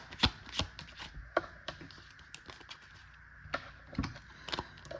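Tarot cards being shuffled and drawn, heard as crisp, close flicks and slaps of card stock in uneven bursts with short pauses, quiet overall and free of talk.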